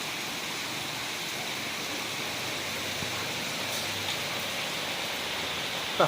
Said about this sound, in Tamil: மழை ஸ்டார்ட் பண்ணிச்சு ஜாஸ்தி போய் ஆரம்பிச்சிச்சு